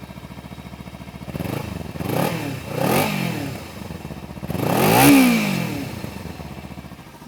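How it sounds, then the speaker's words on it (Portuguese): A used motorcycle engine starts and runs, several rising and falling revs swelling up, then one stronger rev near the end, heard alone and close by. "Ligue a moto e veja se ela pega fácil."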